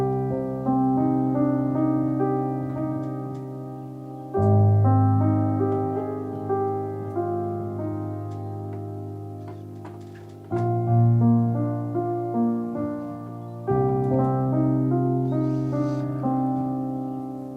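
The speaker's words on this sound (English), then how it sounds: "allows the piano to sound like any conventional piano" Conventional-sounding unprepared piano patch from the Mutations Ultimate Prepared Piano sample library by Insanity Samples plays a sustained piece alone: rich chords and melody ringing clearly with few pauses, steady loudness throughout.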